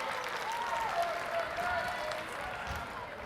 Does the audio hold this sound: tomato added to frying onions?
no